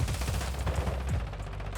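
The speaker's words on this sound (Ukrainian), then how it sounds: "це боти так стріляють гарно" Rapid automatic gunfire from bots in Call of Duty: Modern Warfare II Warzone 2.0 DMZ, a dense burst of shots that continues without a break.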